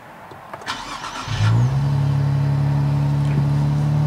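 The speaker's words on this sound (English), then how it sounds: "Let's start this car up and let's see what it sounds like from the inside." A Nissan Z engine cranks briefly from inside the cabin, catches with a sharp burst, then settles into a steady, loud low idle hum that holds to the end.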